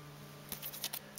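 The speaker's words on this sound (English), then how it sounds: "Let's snip this one because I don't know if I cut the other one." Scissors snip open a Pokémon card blister pack with a few quick, close, quiet cuts in a short burst.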